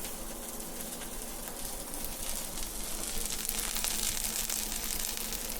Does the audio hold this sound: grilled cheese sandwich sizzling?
yes